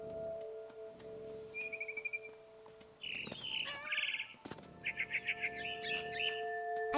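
Birds chirp in the video game What Remains of Edith Finch, with short trilled tweets and bursts of rapid chirping over a quiet hum of background ambience, fairly faint and in clusters.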